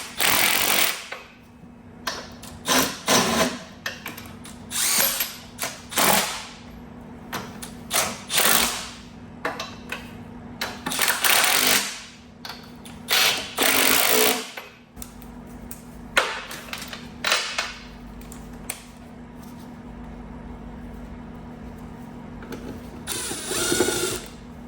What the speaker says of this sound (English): We're gonna tighten up these bolts now.